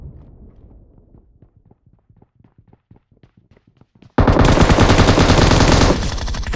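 PUBG video game gunfire from above: a run of light, rapid rhythmic clicks, then an abrupt, very loud, dense burst of sustained shooting that holds for about two seconds before easing slightly.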